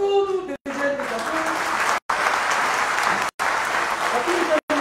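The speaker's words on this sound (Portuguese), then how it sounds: "salva de palmas para todos os dirigentes da APU" Applause from an audience at a political gathering honouring party leaders, a steady dense clapping wash with some voices and cheers on top, broken by a few brief gaps.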